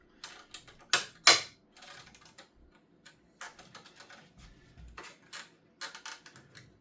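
Closing the retention lever on an Intel LGA 1700 CPU socket produces a few sharp metallic clicks and snaps up close, loudest near the start, with softer handling ticks and rustles throughout.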